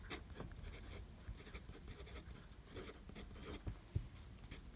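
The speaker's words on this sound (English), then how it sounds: "Let's see it now in action with the Twsbi Go." Twsbi Go fountain pen with a fine nib writing on paper, quiet, close scratchy strokes in short irregular bursts with small taps between them.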